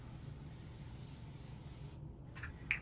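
Aerosol spray can misted onto a creased T-shirt, a steady close hiss that cuts off abruptly, followed by a couple of short faint puffs.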